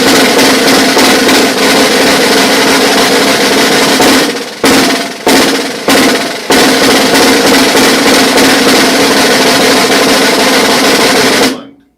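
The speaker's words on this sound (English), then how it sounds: "that's how you get going with the buzz roll" A snare drum buzz roll played at a summer drum camp: a dense, sustained sizzling press roll held steadily and loudly for about eleven seconds, broken by a few brief stops partway through before it cuts off.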